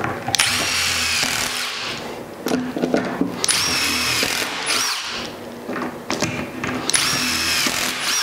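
Power drill pre-drilling holes in wooden cornhole boards, with several loud whirring bursts of a few seconds each and short pauses between them, close by and with no talking.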